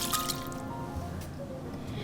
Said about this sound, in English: I'm going to add 2/3 cup of dry white wine and a 1/4 cup of raw apple cider vinegar.